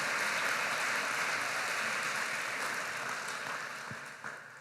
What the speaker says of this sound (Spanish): Démosle al Señor un aplauso